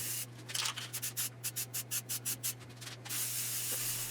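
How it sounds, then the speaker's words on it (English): A can of black spray paint hisses in a string of short, rhythmic bursts onto wood, then releases one longer continuous spray at the end, under a steady low hum. "I sprayed on a single coat of black spray paint"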